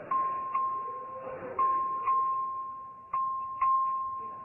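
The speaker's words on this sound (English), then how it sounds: "Clerk will ring the bell." A legislative chamber bell rung by the clerk for a record vote sounds as a series of about seven clear, evenly repeated dings, each decaying before the next, ringing out alone over faint room noise.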